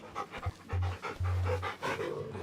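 A dog panting in Final Fantasy XVI while it is being petted, heavy rhythmic breaths repeating close and clear with no talk over them.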